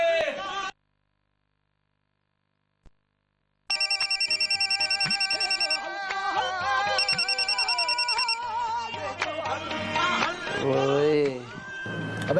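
A phone rings with a repeated electronic ringtone in bursts after a brief silence, then gives way to busy music and sound effects from a Hindi TV comedy scene.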